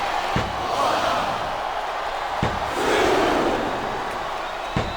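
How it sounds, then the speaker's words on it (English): Wrestling arena crowd at WWE Judgment Day 2006 roaring steadily during a pin attempt, a dense loud wash of cheering with a few sharp slams punctuating it and a swell near the end. "I love hearing the crowd"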